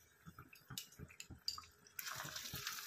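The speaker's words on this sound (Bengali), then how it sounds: "আবার একটু গরম জল দিয়ে দিলাম যাতে মাছটা ভালোভাবে ডুবে যায়" Hot water poured into a pan of tangra fish, first a few soft clinks and splashes, then a steady close pour washing over the pan.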